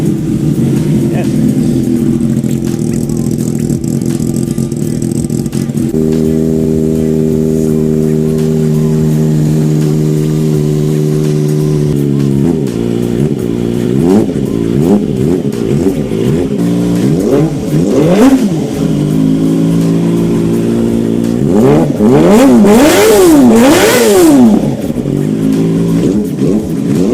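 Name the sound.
Kawasaki ZX25R motorcycle engine revving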